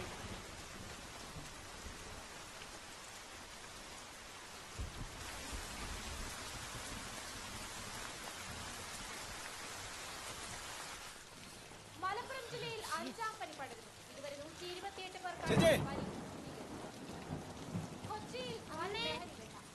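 Steady rain falls in a constant hiss, with a deep thunder rumble and a sharp crack later on, while people talk quietly under it.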